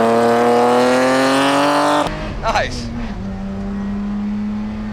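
A 1980s BMW 3 Series is driven hard on a race track, its engine revving up loudly before cutting off abruptly, then a brief tire squeal and a steadier lower engine note, with a short spoken word inside the car.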